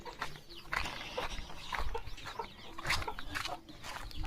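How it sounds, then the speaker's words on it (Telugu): Rooster and hens clucking inside a farm shed: steady overlapping clucks and calls from several fowl at close range, with no talking. "ఇదిగోండి ఇంకో పుంజు"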